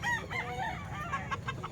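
Chickens at a busy poultry market in Calumpit, a rooster crowing and hens clucking in quick overlapping bursts amid crowd noise, fairly distant and soft.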